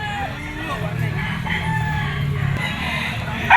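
A Kelso gamefowl bull stag, a white-legged rooster of a Kelso Firebird line, crows in a long drawn-out call close by, followed by clucking among other farm fowl, with a short burst of noise at the very end.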